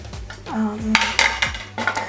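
Metal grater handled in a home kitchen while preparing garlic, a few close, bright metallic clanks and scrapes with ringing tones, irregular and clattering like utensils.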